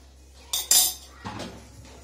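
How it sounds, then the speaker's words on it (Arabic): Hair-mask mixture stirred in a bowl, giving a few brief clinks and scrapes of a spoon against the bowl, close and fairly loud in an otherwise quiet room. "وغنبقى نخلط غير بشوي بشوي"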